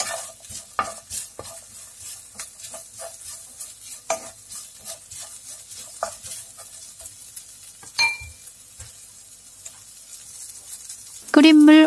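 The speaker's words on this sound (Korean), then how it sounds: "고기의 붉은 겉면이 갈색이 될 때까지 달달 볶아줍니다." Pork for a potato jjageuli stir-fried in a pan until browned, crackling sizzle with repeated spatula scrapes and clinks in an uneven rhythm, close and fairly loud, ending in a brief louder burst.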